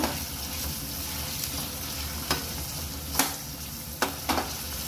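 Chopped tomato frying with onions in a pan for egg bhurji, a steady close sizzle under occasional sharp spatula scrapes and taps, continuous throughout with no talking.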